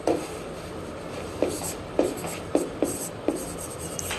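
Short chalk or marker strokes on a classroom board tap and scrape in a loose rhythm of about six distinct marks, close and moderately loud over a faint room hum.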